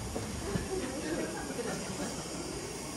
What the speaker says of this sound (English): Now you can see it's really steaming over there.